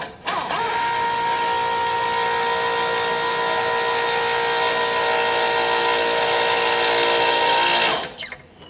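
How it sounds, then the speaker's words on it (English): A split bushing being pressed into a Ford 172 connecting rod by a powered press, a loud steady mechanical whine that holds for about eight seconds before cutting off. "We want to make sure we press those in from the beveled side."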